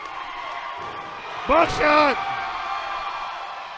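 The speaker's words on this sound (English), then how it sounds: "Listen to this crowd." A wrestling crowd at an SFCW Crossroads pro wrestling show roars and cheers in a broad, steady wash of noise, with a commentator's voice briefly shouting over it.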